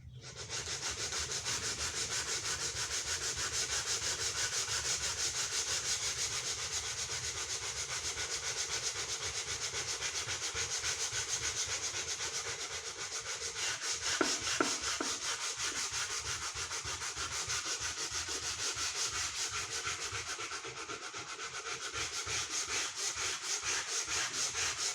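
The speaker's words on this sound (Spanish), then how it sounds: "Ahora vamos a utilizar diferentes calibres de lija" Hand sanding of a wood marquetry panel with sandpaper wrapped on a small cork block, graded grits: continuous close rhythmic rasping strokes, fairly quiet and steady, with a few brief knocks midway and no talking.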